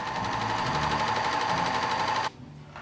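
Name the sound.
overlock sewing machine doing a test seam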